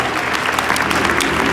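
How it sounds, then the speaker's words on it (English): Church congregation at the Rock Church breaking into applause during a service, a brief, loud, dense wash of clapping hands filling the room. "Come on, give the Lord a big round of applause tonight."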